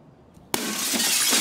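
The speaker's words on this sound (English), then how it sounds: "Broken glass, is that us?" After a near-silent moment, a glass window in Escape from Tarkov shatters in one sudden loud crash, followed by a brief hiss of falling shards.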